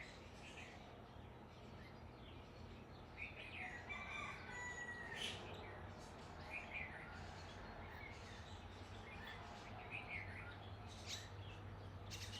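A rooster crows at a distance, faint and repeated, over steady early-morning background noise and light bird chirps.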